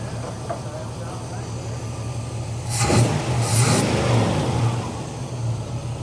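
Old car brought back after 16 years off the road, its engine rumbling at a steady idle, then revving up in a short burst near the middle before settling back to a loud, even rumble.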